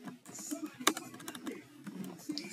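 Computer keyboard typing during Excel work: a quick run of light, irregular key clicks with one sharper tap, close and fairly soft.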